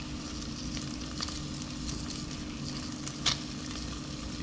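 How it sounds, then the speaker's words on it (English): Hot chicken wings sizzle and crackle in an air fryer basket as they are flipped, with a steady fizz throughout and a few brief knocks of the wings and tongs. "So basically, I'm just gonna flip these."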